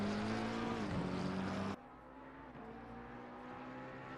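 A race car engine in the Assetto Corsa Competizione racing game drones steadily with a loud, tonal whine, dips briefly, then drops sharply to a quieter engine note that continues to the end.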